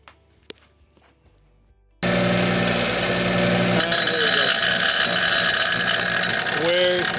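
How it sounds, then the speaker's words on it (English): An angle grinder cleans up a metal weld on a homemade sand wheelchair frame, starting abruptly after a quiet pause and then whining loud and steady with a bright, sustained tone close by. "I'm gonna clean this one a little bit off with the grinder"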